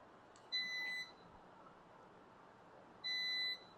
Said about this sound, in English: This beeping will continue until somebody pushes the button